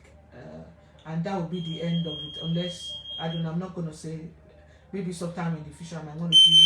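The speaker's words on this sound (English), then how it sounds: "Oh, sorry, that's my alarm there." An alarm gives a sustained electronic beeping tone, then sounds again briefly at the end, fairly faint under a person talking steadily.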